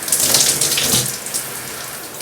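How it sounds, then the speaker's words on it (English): Tap water runs steadily and close by as hair is wet under the stream, a continuous hissing splash that changes slightly midway and carries on alone without voices. "Let's go ahead and just wet my hair."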